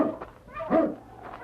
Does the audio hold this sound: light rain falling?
no